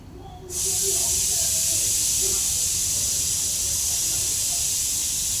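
Ginger garlic paste hitting a hot pan for paneer pulao, a sudden loud steady sizzle that holds evenly for several seconds, close up, with faint speech underneath.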